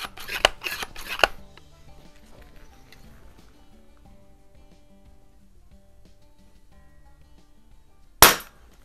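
Quackenbush air rifle firing .21 caliber shot: a few sharp, close cracks in the first second and a half, then quiet handling noise, then one more loud crack near the end.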